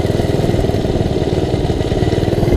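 A minibike engine with a slipping clutch runs loud and close, a rough buzzing drone with fast pulsing clatter, steady throughout without talk.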